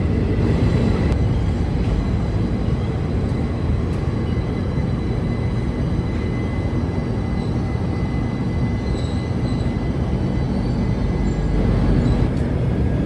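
Steady heavy rumble of a superfast express train arriving at Cherthala station, a dense low roar holding constant throughout with faint metallic tones above it.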